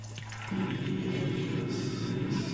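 A toilet bursts in the Lego Harry Potter video game, releasing a sudden rush of gushing water that swells after a brief pause and keeps pouring steadily to the end.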